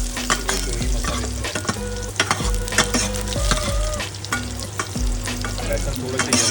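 Ginger fries in oil in a pan for dal fry, a steady close sizzle with repeated scraping and stirring strokes of a spoon against the pan.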